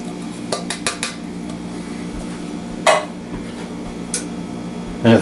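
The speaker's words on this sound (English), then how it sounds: "In here, we're going to stir everything together" Green beans stirred in a large mixing bowl produce scattered clinks and scrapes of a utensil against the bowl, a few sharper knocks standing out over quiet room tone.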